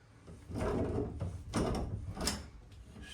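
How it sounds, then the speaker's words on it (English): Channel-lock pliers grip and twist an old shower head off its arm, giving a few close scraping, clunking metallic bursts separated by short pauses. "get some channel locks, take that old shower head off."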